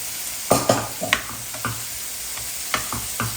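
Paneer sizzles softly in a pan while a spoon scrapes and taps against it in several short, uneven strokes.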